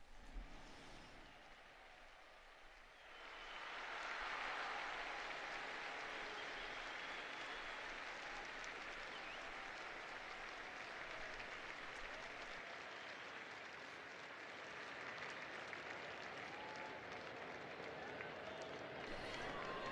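A large crowd in St. Peter's Square applauds after Pope Leo XIV's Sunday Angelus address, a dense, sustained roar of clapping that swells after a few seconds and holds steady, loud and continuous throughout.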